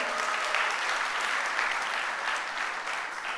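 An audience gives actress Zeenat Aman a warm round of applause, an even, continuous patter of many hands clapping at moderate distance without a break.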